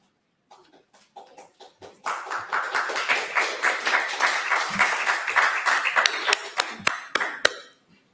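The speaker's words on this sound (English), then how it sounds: "applause to all of the speakers" Mourners at a memorial for Ryan Leone applaud the speakers. A few scattered claps build after a couple of seconds into full, steady applause, which then breaks apart into isolated claps and stops.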